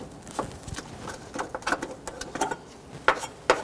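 A 10mm socket wrench turns a nut off a bracket on a 2005-2021 Nissan Frontier 4.0L V6, with a rapid run of light ratcheting clicks and a couple of sharper metallic taps, close up with no voices.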